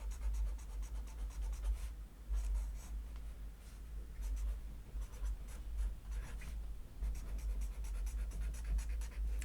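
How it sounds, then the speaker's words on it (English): Felt-tip marker pen scratching steadily across paper as someone writes and colours in, close and continuous with a low background hum beneath. "You can either use them for writing, or you can use them, actually you can even sort of do a bit of colouring in."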